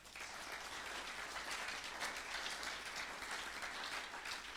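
A church congregation breaks into sustained applause, a dense, even wash of clapping from many hands filling the room for several seconds.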